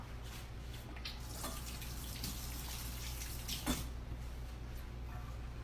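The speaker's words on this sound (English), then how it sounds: "Let me wash my hands off." Hands washed under a running kitchen tap while baking an apple cake, a steady close stream of water splashing into the sink with a small splash near the end, no talking.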